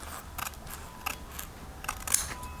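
Scissors cutting trim material for a DIY car door panel, several sharp, separate snips spaced irregularly at close range in a quiet room.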